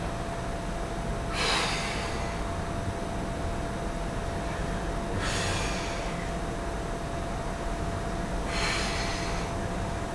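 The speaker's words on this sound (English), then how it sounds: "I'm really over exaggerating my breathing because I want you to see how I'm breathing." Three evenly spaced, forceful breaths during a pilates exercise, each a loud airy exhale standing alone over a constant low hiss.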